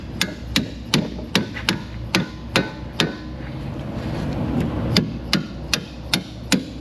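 A hammer strikes metal over and over during car repair work, a dozen sharp, ringing blows in a steady rhythm with a short gap in the middle, loud and close.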